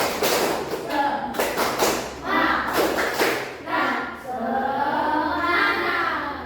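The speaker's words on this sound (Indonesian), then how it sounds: "coba tepuk semangat." Rhythmic group clapping from a classroom of students doing a spirit cheer, a patterned sequence of claps and taps mixed with children's voices, moderately loud and close.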